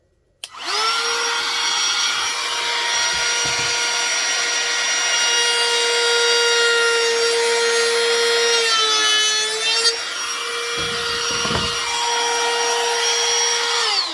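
A Milwaukee or Ryobi cordless router cuts a cove profile along a wooden edge, its high steady whine running loud and continuous with a brief dip and pitch wobble near the end before it spins down.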